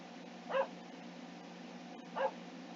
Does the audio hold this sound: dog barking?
yes